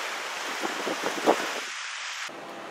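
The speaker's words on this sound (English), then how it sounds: "Listen to the waves." Caribbean waves wash beside a clear-water swimming hole in Curacao, several soft surges breaking in quick succession and fading into a calmer hiss under light wind.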